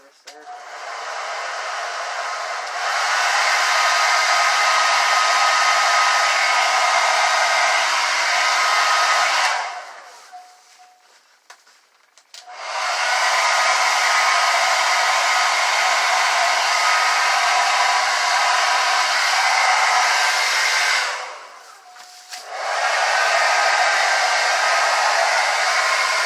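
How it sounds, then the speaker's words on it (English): A loud blow dryer, used on a pour painting, roars steadily, cuts off briefly twice, and then starts back up each time, with faint clicks during the pauses. "I'm not big on this with blow dryer."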